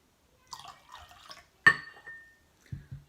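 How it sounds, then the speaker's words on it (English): Grape juice poured into a glass of water, a short trickle with a few small splashes and clinks of glass, then a brighter splash and a couple of low thuds as the glass is set down. Quiet, close, with no talk. "Now I'm going to put some grape juice in this water."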